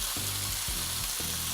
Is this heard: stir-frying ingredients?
yes